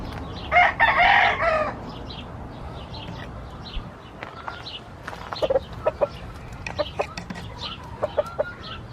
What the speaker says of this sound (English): It's a bunch of chickens, roosters, little pollitos, little baby ones,